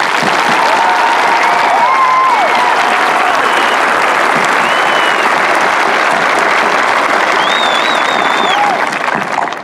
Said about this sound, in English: please join me as I applaud the class of 2014 Pickens County.